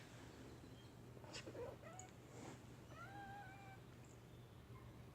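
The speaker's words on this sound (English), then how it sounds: "This is my cat." A female cat meows several times, the calls rising and sliding in pitch, fairly close over a steady low background hum.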